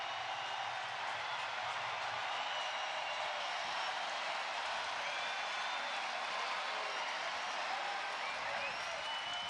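Crowd at an Angels home baseball game against the Marlins rises into a broad, sustained roar, a steady wash of cheering at distance, moderately loud and unbroken.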